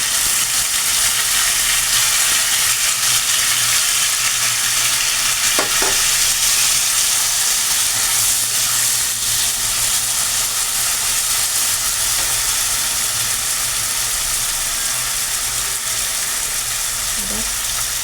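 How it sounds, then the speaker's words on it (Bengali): Chopped snake gourd hits hot oil in a pan and settles into a loud, continuous sizzle and hiss that carries steadily throughout, with faint stirring scrapes now and then. "তেল গরম হয়ে গেছে, আমি এবার এটাকে এর মধ্যে ঢেলে দিচ্ছি।"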